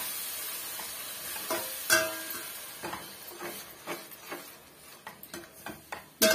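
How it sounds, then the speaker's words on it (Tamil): A spoon scrapes and stirs a thick ground paste for egg gravy in a frying pan with a soft sizzle, making a series of distinct clacks and scrapes at an uneven rhythm. "அந்த விழுதை வந்து சேர்த்துக்கலாம். சேர்த்துட்டு மிக்ஸ் பண்ணி விட்டுருங்க."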